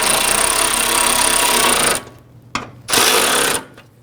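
A power driver snugs bolts on a fender bracket of a 1997–2006 Jeep Wrangler, giving a loud, close steady whir that stops, then one brief burst and a short final run.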